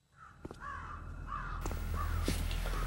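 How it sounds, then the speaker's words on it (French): Crows caw repeatedly in the video game Metal Gear Solid: The Twin Snakes, hoarse calls spaced in a loose rhythm over a rising, rumbling ambient background, with a few sharp clicks mixed in and no speech. "Merde, ça fait peur, les corbeaux."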